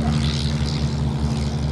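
A Morane-Saulnier Cliquet with its original 240-horsepower Argus As 10 V8 engine runs at an airshow, giving a steady, loud propeller drone with a constant low hum throughout.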